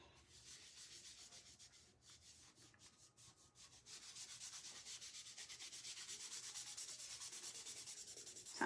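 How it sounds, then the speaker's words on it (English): Antique wax is rubbed by hand onto a small wooden circle for a fall tier tray: quiet, rhythmic scrubbing strokes, soft and close, growing steadier and slightly louder in the second half with no talking. "So I'm just rubbing the antique wax on this circle"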